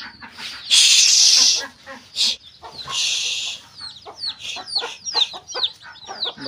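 Chickens cluck loudly and repeatedly in a farmyard where ducks and a goat roam, with bursts of squawking and quick, chattering calls close by.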